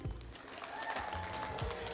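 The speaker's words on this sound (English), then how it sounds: "please, a round of applause once again for Kubo LB" Crowd applause at a community holiday mixer in the Long Beach Public Library, a dense continuous patter of many hands clapping at moderate level, with some low rumbling and murmur underneath.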